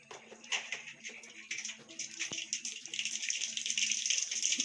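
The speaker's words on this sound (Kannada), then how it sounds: "ನಾನಿವಾಗ ಕಾದ್ಮೇಲೆ ಸಾಸಿವೆ ಜೀರಿಗೆ ಹಾಕ್ಕೊತಾ ಇದ್ದೀನಿ." Mustard seeds and cumin crackling in hot oil while seasoning a dish: a steady, close hiss and sizzle builds over a few seconds, with faint pops and a low background hum.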